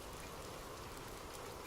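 Rain falls as a steady, soft hiss of drops pattering on surfaces, continuous and even throughout with no voices present.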